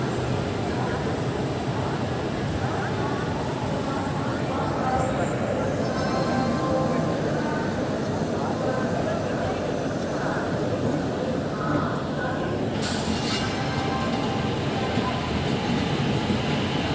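Intercity Express train 14102 running out of Kanpur Central toward Prayagraj, a steady rumble and rattle of the coach throughout, with someone talking over it.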